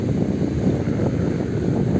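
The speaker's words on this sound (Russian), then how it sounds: "Ветер прям ветер, ребята." Strong wind buffets the microphone in a steady low roar outdoors near open water, constant and fairly loud with no talking.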